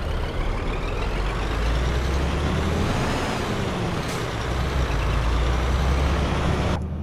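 A heavy truck engine drones steadily in Euro Truck Simulator 2 as a constant loud rumble, with a brief hiss near the end that may be an air brake release. No one talks.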